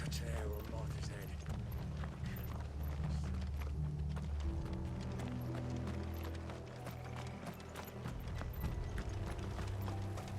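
Horses gallop in the video game Final Fantasy XVI, a rapid, steady clip-clop of hooves running under a low rumbling musical score, continuous and moderately loud from start to finish.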